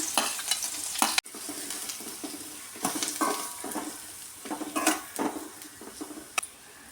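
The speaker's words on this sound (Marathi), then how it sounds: "त्यामध्ये आता मी कांदा टाकते दोन मिडियम आकाराचे कांदे घेते बारीक चिरून ते आपण इथं परतून घेऊया" Finely chopped onions sautéing in a pan with reddened garlic: a bright, continuous sizzle broken by repeated stirring scrapes and spatula knocks, close and fairly loud, with no speech.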